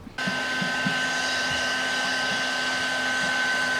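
Hair dryer blowing steadily and close up to set the adhesive on a Tesla Model 3 vinyl wrap, a continuous loud whooshing hum that starts abruptly and runs on alone.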